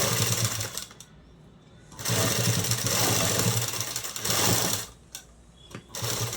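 Sewing machine stitching a blouse, running in steady bursts with brief pauses between, a close mechanical hum and rapid needle rattle, with no talk.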